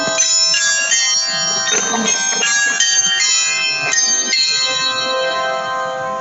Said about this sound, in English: Those are the beautiful bells.